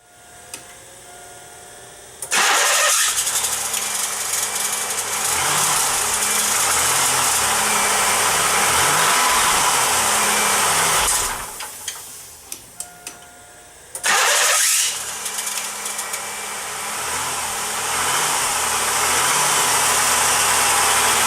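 A 1995 Pontiac Grand Am engine cranks and fires up after a starter replacement, runs with a loud steady roar, cuts out, then cranks and starts running again.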